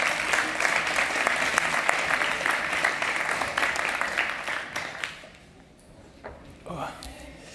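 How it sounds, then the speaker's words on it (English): A summit audience at a Shopify scaling event gives sustained, dense applause that fades out after about five seconds, leaving a quiet room with a few faint stray claps. "So give them a warm applause, Lawrence and Thomas."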